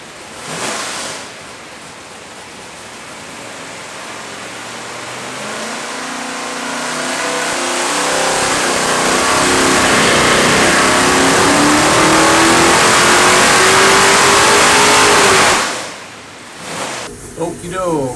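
A 572ci aluminum big-block HEMI roars on a dyno, climbing steadily in pitch through a long full-throttle pull before cutting off abruptly and settling.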